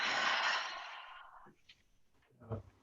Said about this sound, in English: and fully breathing out.